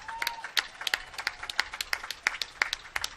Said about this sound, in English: Big round of applause for the fire department.